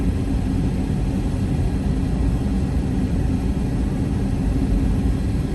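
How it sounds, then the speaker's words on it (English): Loud, steady broadband roar of a car air conditioner fan blowing on its highest setting inside the cabin, constant and unbroken with no talking. "It's like a freaking jet in here, that air conditioner."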